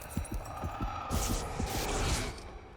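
A fast heartbeat thumps in steady rapid pulses beneath a droning hum in a supernatural horror TV scene, the beats clear and up close, with no talking.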